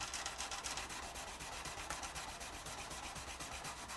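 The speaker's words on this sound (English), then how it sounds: "And we'll use the fret erasers." Fret erasers rubbed across the frets of a Takamine F-349 acoustic guitar: quiet, close, steady back-and-forth scrubbing strokes in a fast regular rhythm, with no voices.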